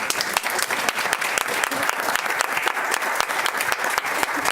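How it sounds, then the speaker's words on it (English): Audience at a county school board meeting applauds award recipients, loud, dense clapping from many hands close by, sustained evenly throughout with no voices over it. "There's going to be a lot of clapping."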